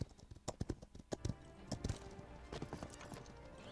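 Horse hooves clip-clop in quick, irregular beats at close range in the video game Paladins, a series of sharp thuds over a quiet background.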